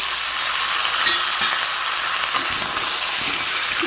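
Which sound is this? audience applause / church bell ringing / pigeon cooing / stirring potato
stirring potato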